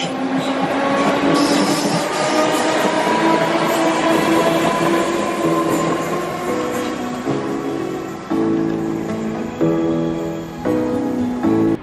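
A train rolls into a station on a rail journey through the North West of England, its engine hum and rising tones sustained and fairly loud, with a series of stepped shifts and brief clunks near the end as it slows.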